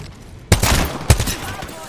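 Gunfire in the Apex Legends video game: two sharp bursts of shots about half a second apart breaking a quiet moment, followed by a trailing rattle, fairly close and moderately loud.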